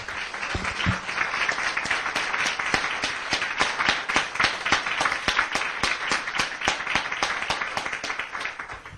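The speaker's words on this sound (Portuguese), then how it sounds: "dê uma salva de palmas bem bonita para Deus." A church congregation claps in steady, sustained applause at a worship service, many hands beating together with crisp, rapid claps that fill the room evenly for several seconds without talk.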